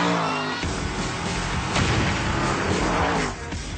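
An Ascari A10 with a 5-litre BMW M5 V8 roars steadily nearby, a dense, loud engine and road noise that swells slightly before easing off at the end.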